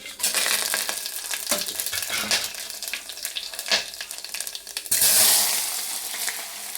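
Whole spices such as cinnamon and cloves crackle and sizzle loudly in hot oil, with scraping stirs and a sudden louder spit of frying partway through.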